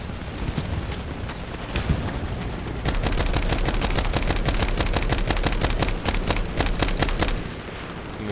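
Gunfire in the Vietnam war shooter Hell Let Loose Vietnam: scattered shots at first, then a long, rapid automatic burst of sharp cracks for several seconds before tapering off, with no talk.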